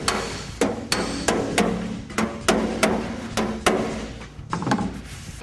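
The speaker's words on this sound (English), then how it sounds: "Using a hammer and dolly allows you to shape the metal into its original contour." Hammer-and-dolly work on a bare car body metal panel: about a dozen sharp metallic taps in a steady, slightly uneven rhythm, close and clear, with no talking.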